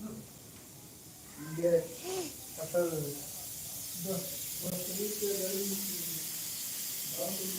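A steady high hiss of steam escaping from a pressure cooker runs throughout, with people talking nearby over it.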